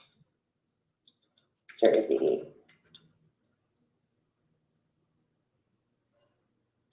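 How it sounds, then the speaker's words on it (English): Someone types into a chat and search bar on a computer keyboard, producing a few scattered soft key clicks and one denser burst of tapping, quiet and close, with long silent gaps between. "I'm just gonna start typing things in the chat."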